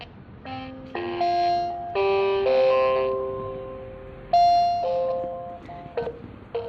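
An FV DB02M WiFi doorbell plays its power-on tune, a short sequence of clear electronic chime tones that step up and down in pitch, some held longer, then ends in a few quick bleeps.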